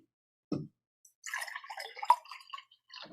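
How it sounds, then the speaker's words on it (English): Water poured into a glass at a desk, a short low splash followed by a longer burbling pour with bright liquid trickles, close and fairly quiet, with no talking over it. "I'm going to pour myself some water too"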